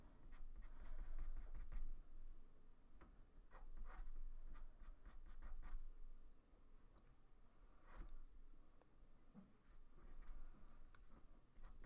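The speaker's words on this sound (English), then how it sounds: "Taking a black pencil and then very quickly drawing the lashes in." A black pencil quickly draws lashes on a wolf drawing, giving soft, faint scratchy strokes in irregular quick bursts with short pauses between them.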